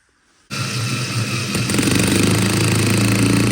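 After a brief quiet moment, a loud Parkside cordless hammer drill starts up and runs continuously with a steady, buzzing motor whine and rattling hammer action.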